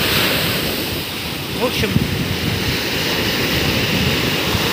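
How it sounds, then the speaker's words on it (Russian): Loud, noisy surf rolls continuously onto the sandy beach at Nha Trang, with wind buffeting the microphone throughout and a brief voice heard over the steady roar of the waves. "Песчаное, шумное."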